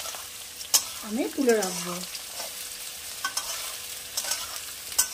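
Capsicum and beans are stirred and fried in a pan for a Rajasthani dhaba-style dish, with sizzling and scraping that comes and goes. Someone speaks briefly partway through, and sharp utensil clicks break in now and then.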